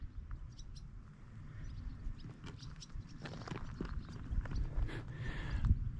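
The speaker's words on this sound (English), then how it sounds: "lots of bird chirpings. These are swallows, I believe" Swallows chirp in a valley on a fell walk from Ennerdale to Yewbarrow, quick high twitters scattered over a low rumble of wind and outdoor ambience, fairly faint and intermittent.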